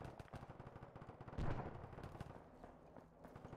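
Rapid bursts of automatic gunfire from a military co-op shooter game, with a heavier boom near the middle, crackling steadily throughout at moderate distance.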